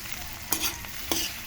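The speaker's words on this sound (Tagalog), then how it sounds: "Sangag sa butter na hipon." Shrimp frying in butter in a pan, twelve pieces, with a steady low sizzle and two soft stirring scrapes near the middle and end, no voices.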